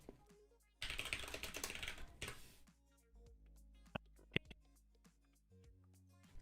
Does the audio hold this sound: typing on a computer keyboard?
yes